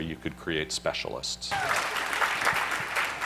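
An audience bursts into applause right after a speaker's lecture line, dense clapping that starts abruptly and carries on steadily at moderate loudness.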